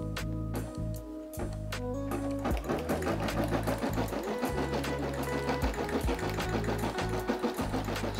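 A Brother SE600 embroidery machine stitches out a design, its needle hammering in a fast, steady mechanical rhythm with a whirring motor hum, loud and close throughout with no talking.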